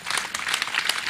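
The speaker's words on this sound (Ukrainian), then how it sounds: "Лунають оплески." Brief burst of audience applause at a school's 160th anniversary ceremony, a dense patter of many hands clapping at once, close and lively for about a second.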